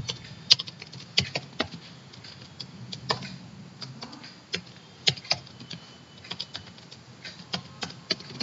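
Irregular bursts of clicky keystrokes on a computer keyboard while writing a C program, close and dry, with short pauses between flurries and no voice.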